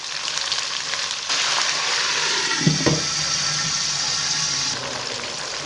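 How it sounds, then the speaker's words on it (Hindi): Water poured into a hot pan of onions while cooking jeera rice: a loud rushing hiss and sizzle that starts suddenly, holds for a few seconds with a brief clank, then stops. "हल्का सा पानी डाल के मैं इसे कर दूँगी कवर।"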